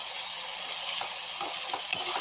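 Capsicum frying in oil with masala in a kadai makes a steady sizzle, with a few soft scrapes of a spoon stirring the pan toward the end, close and without speech.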